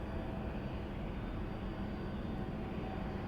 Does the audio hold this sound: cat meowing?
no